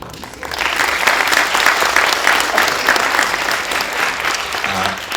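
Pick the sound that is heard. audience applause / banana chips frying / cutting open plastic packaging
audience applause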